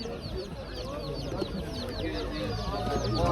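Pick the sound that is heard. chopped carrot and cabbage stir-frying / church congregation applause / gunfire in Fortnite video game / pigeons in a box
pigeons in a box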